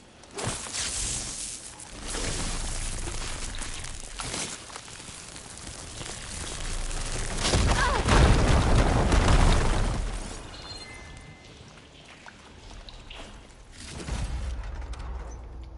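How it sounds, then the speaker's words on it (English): A firegleam ignites in Horizon Forbidden West with a loud, sustained explosive roar that swells to a rumbling peak, fades, then flares again near the end, heard alone without talk. "And now, ignite the fire gleam."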